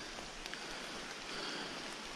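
Steady rain falling around a campsite on an Inside Passage expedition, a constant close hiss of drops on surfaces with no talking.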